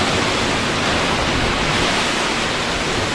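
Birthi waterfall in Pithoragarh pouring down close by, a dense, steady roar of falling water filling everything, with no voices.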